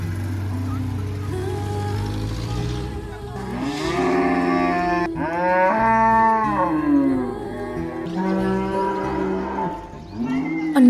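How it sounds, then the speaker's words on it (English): Village cows in a rural Uzbek mountain settlement low loudly again and again, long drawn-out moos overlapping as a herd crowds a street, with background murmur and movement around them. "a lady came out guiding the family cow to the main square of the village"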